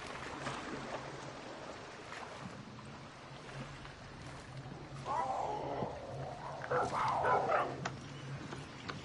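A dog barks in the video game Far Cry 6, a few rough barks rising out of steady outdoor game ambience near water, moderately loud and with no voices.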